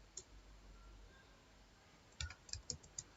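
Brief burst of computer keyboard typing, a handful of quick light clicks close up in a quiet room, following a stretch of near silence.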